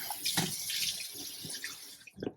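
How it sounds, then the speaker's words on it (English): Tap water runs into a sink while a face is rinsed, giving uneven splashes and bursts of flow with a few sharper splatters near the end, close and alone. "I'm going to quickly rinse off my face"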